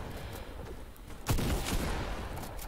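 A single sharp sniper rifle shot cracks out in Fortnite gameplay, loud and close, followed by a rougher burst of further gunfire over faint background game sound.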